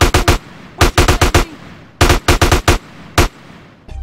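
Automatic and single gunfire in GTA San Andreas, fired in bursts of rapid, loud, close cracks with short gaps between volleys.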